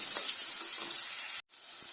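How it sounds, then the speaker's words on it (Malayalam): Small onions, garlic and ginger fry in hot oil in a pan, giving a close, steady crackling sizzle that cuts out briefly near the end before resuming. "ഈ ഉള്ളിയും വെളുത്തുള്ളി ഇഞ്ചിയും കൂടെ എണ്ണയിൽ കിടന്ന് നന്നായിട്ടൊന്ന് മുക്കട്ടെ"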